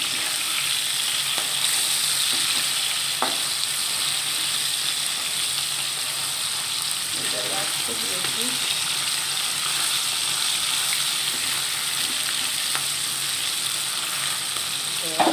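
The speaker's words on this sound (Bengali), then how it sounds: "আমার মাছটা ভাজা হয়ে গেছে, অলরেডি লাল লাল করে ভাজা হয়ে গেছে।" Pieces of soft bhola fish fry in oil in a pan, a steady loud sizzle running throughout with occasional clinks of utensils, while a person speaks briefly over it.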